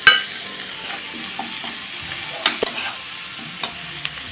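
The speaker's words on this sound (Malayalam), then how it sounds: "എന്നിട്ട് എല്ലാം കൂടെ നല്ലവണ്ണം ഒന്ന് മിക്സ് ചെയ്ത് കൊടുക്കാം അത് പച്ച ചുവ മാറി വരുന്നത് വരെ ഒന്ന് ഇളക്കി കൊടുക്കാം" Ginger paste, garlic paste and chopped green chilies fry in a pan for chicken roast, a steady soft sizzle broken by a few sharp clinks and scrapes of the stirring spoon, with no talking.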